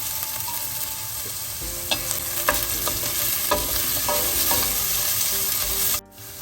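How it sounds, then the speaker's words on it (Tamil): Onions and green chilies sauté in a pan for millet fried rice, hissing steadily near the mic while a spatula scrapes and clicks intermittently; the sound cuts off abruptly near the end. "கொஞ்ச நேரம் இது வதங்கட்டும் நல்லா இந்த வெங்காயம் வதங்கி கொண்டு வர"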